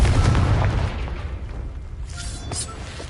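A Confringo blasting spell bursts in Hogwarts Legacy with a loud, booming blast up front that rolls off into a fading rumble, followed by brief bright crackles near the end.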